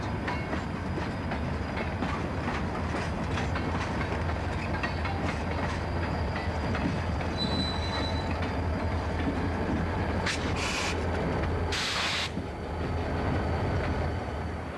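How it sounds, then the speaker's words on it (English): Steady rumble of a slow-moving freight train backing down a siding, with rhythmic wheel clatter, plus a couple of brief sharp metallic bangs near the end as it couples to empty cars. "we are ready to back down the siding once again and couple to the empties"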